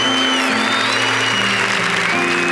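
Applause from an audience at a Catholic youth gathering led by a priest, a dense, steady wash of clapping that holds for the whole stretch over a low sustained tonal background.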